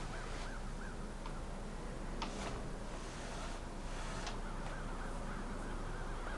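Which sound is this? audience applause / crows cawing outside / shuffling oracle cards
crows cawing outside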